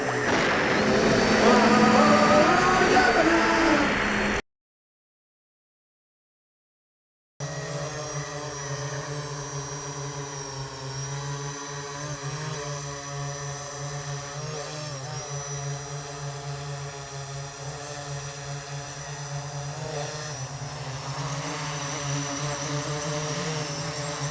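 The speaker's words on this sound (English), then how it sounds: "Like the motor desynced or something." Electric motor of a StriverMini RC VTOL model airplane stumbling in flight as it desyncs, a loud buzzing whine that cuts out briefly, then returns as a steady droning tone with wavering pitch, with voices talking over it.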